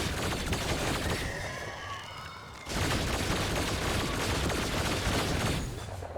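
A machine gun fires in the action game Biomutant. Dense, rapid bursts roar steadily, break off in a short lull with a faint tonal hum, then resume at full strength.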